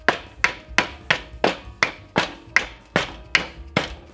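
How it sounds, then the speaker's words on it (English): About a dozen sharp, ringing hammer blows land one after another in a steady rhythm, loud and close, bending metal tabs while relocating an S13 steering rack. "Then you're supposed to grab your favorite hammering device"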